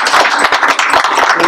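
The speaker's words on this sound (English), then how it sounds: "I think that they deserve a round of applause." A crowd applauds in a dense, steady wash of many hands clapping, loud and close, with no gaps over the short stretch.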